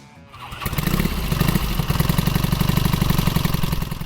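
A Triumph TSX 750 motorcycle engine starts up and settles into a steady, rumbling idle with a throbbing rhythm, close and loud, with no voices.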